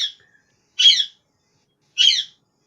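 A bird gives three short, sharp squawks, close and loud, spaced roughly a second apart with silence between them.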